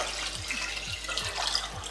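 A home hydroponic pump drawing water hard: steady close rushing and splashing with regular low throbbing pulses about every half second, and no voices.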